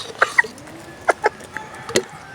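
A hen or rooster clucks close by at feeding time in short, irregular bursts, several sharp clucks spread across a couple of seconds.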